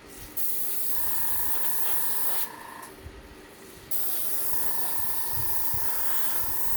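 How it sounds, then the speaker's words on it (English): An airbrush fed by an air compressor set to 20 psi sprays alcohol ink. The close, steady hiss runs in two long bursts with a short quieter pause between them, and a faint tonal whine sounds underneath. "I have my air compressor set at 20 psi."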